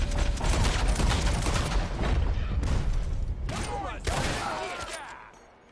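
Rapid volleys of gunfire from a Red Dead video game shootout, dense and loud throughout with sharp cracks standing out toward the end, someone talking faintly underneath.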